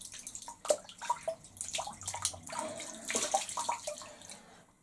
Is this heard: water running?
yes